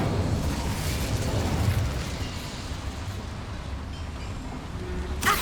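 Incendio, a fire spell in Hogwarts Legacy, roars out as a broad rushing burst of flame that starts loud and gradually fades, ending with a brief sharp pop.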